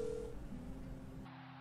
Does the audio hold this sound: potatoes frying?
no